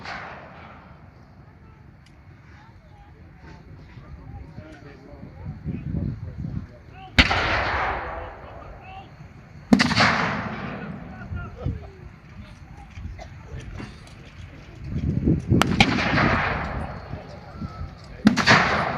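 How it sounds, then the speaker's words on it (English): Several heavy 25-pounder artillery booms at a WW2 re-enactment, at irregular intervals, each a sharp loud blast with a rolling tail, over a steady rumbling background. "The Allies have ordered the 25-pounder cannon to be brought into action. They fire towards the farm."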